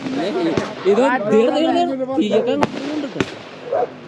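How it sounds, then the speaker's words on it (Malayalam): Firecrackers set off for Eid crack in a few sharp, isolated bangs spaced seconds apart, each brief and punchy, heard under close, continuous conversation. "അല്ല പെരുന്നാളിൻ്റെതായിട്ട് നമ്മ പടക്കം പൊട്ടിച്ചു."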